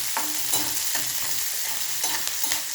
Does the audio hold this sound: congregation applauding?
no